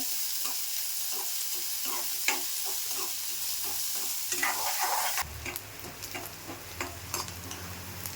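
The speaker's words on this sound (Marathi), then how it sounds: "कांदा चांगला मऊ असा भाजून घ्यायचा" Onion sizzling in a pan as it softens, a steady close crackle under repeated spatula stirs and light clinks against the pan, with a louder burst of frying near the end.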